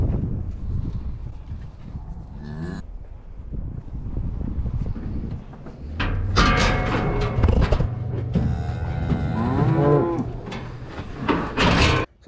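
Cattle calves mooing on a farm while they are checked for horns before going out to grass; several loud, drawn-out moos close by over steady wind noise on the microphone, with no talking.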